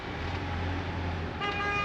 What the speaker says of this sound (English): we tried to pull into 9 and we were getting tooted by lorries